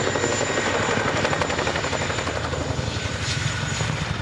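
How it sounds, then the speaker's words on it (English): A Chinook helicopter landing during an airshow demo gives a loud, continuous rotor roar with a fast rhythmic thudding beat, close and steady throughout. "we'll run the aircraft straight onto the ground like this"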